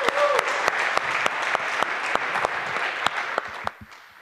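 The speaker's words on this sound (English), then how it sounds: "please give him a warm round of applause as our first speaker" An audience at a hacker camp's lightning talks gives a warm round of applause for the first speaker, with dense clapping and a few louder individual claps that carry on for about four seconds before dropping off.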